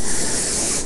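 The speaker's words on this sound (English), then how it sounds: "Okay, watch how I spray it." A short, steady hiss of a freeze spray can spraying, loud and close, cutting off abruptly after about a second.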